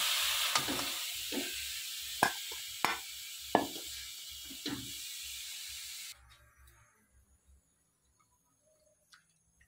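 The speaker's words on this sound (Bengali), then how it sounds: "আর 5 মিনিট মতো এইভাবে রান্না করলে রেডি হয়ে যাবে গাজরের হালুয়া।" Carrot halwa cooks in a pan with a steady soft sizzle while a spoon scrapes and stirs it in a series of distinct strokes; the sizzle cuts off abruptly, leaving near silence with a few faint knocks.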